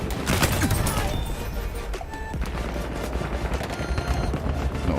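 Dense, continuous gunfire in the Battlefield 1 video game, rapid submachine gun bursts overlapping with distant shots and explosions, loud and unbroken for several seconds.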